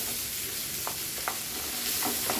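Batter frying in coconut oil with curry leaves in a pan gives a steady, soft sizzle, broken by a few brief stirring scrapes.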